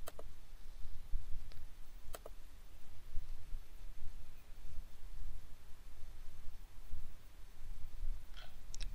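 Computer mouse clicking during an eBay listing watermark setup, a few faint, sharp single clicks spread apart over a low background hum.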